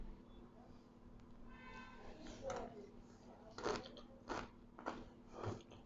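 Several crunchy bites of homemade chicken shawarma, baked in a home oven and served with nacho chips and garlic sauce, come close and quiet with soft chewing, and someone speaks around them.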